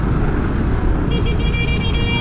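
A car horn toots in loud road traffic beside a Honda PCX scooter, sounding as a short series of steady, near honks over a continuous engine and traffic rumble.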